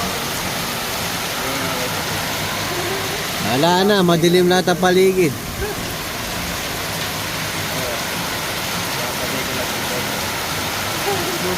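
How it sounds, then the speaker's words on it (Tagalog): Heavy rain lashes down outdoors as night falls, driven by strong wind, in a dense, continuous roar that fills the whole stretch; someone talks briefly over it midway. "Yan, grabe lakas ng ulan, lakas pa ng hangin."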